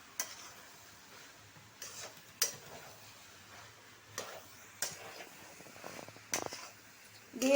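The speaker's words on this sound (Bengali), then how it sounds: "এটা 2-3 মিনিট ভালো করে আরো ভাজতে হবে" Cabbage and soybean are dry-fried in a pan, with a spatula tapping and scraping the metal at irregular intervals, sharp clicks over a quiet low sizzle.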